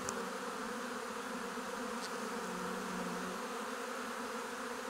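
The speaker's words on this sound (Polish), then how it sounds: "No jest to spory rój." A large honeybee swarm in Kashubia, its main cluster over a metre across, hums in a steady, continuous drone throughout, fairly faint and even, with no voices over it.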